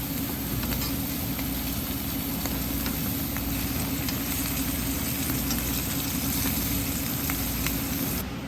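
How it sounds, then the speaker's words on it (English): Scallops searing in a hot pan produce a loud, dense, continuous sizzle and crackle that stays steady throughout, close up and with no voices. "Alright, so we got our scallops seared on one side."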